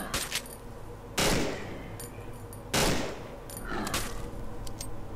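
Enemy gunfire in the co-op horror game Cry of Fear: two sharp, loud bursts a second and a half apart, then scattered fainter shots over a quiet background.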